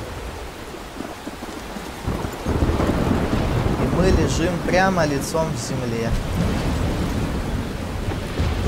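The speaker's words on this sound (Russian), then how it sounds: "Вау, какая буря. Прям очень штормит. Такая непогода." Heavy rain and a thunderstorm in the video game Life is Strange: dense, roaring rain with wind buffeting and a deep rumble building midway, while a voice speaks over it.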